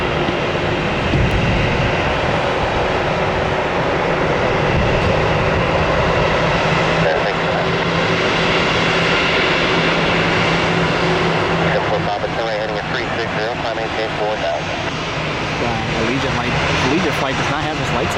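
An Allegiant jet airliner passes overhead with a loud, sustained engine roar that shifts in pitch toward the end, while someone talks over it.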